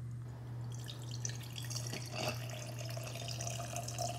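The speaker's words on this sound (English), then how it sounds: "you're going to grab your Seagrams bottle, and you're going to grab your little mixer, and you're just going to pour it in" Seagrams being poured from a bottle into a small mixer: a steady liquid trickle and splashing with drips over a constant low hum, close and fairly quiet, no talk.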